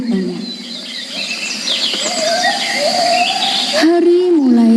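Sparrows chirp with bright, rapid tweets scattered through the clip under a steady outdoor hum, and a voice speaks briefly near the end.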